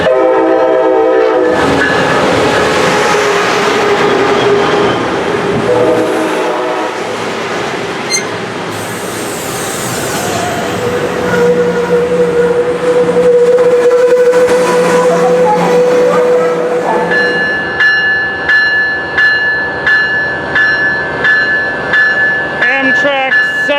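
An Amtrak passenger train pulls into Glendale station with rolling rail noise and clattering cars, its horn sounding a long steady blast and later several short repeated blasts, loud and close, with voices talking in the background.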